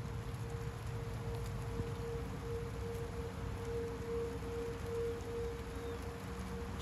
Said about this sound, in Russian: У нас дождик идет.